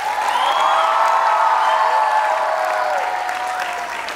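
A school gathering applauds its alumnus, cricketer Tushar Deshpande, with loud, sustained clapping mixed with cheers and whoops rising over the crowd, fading slightly toward the end.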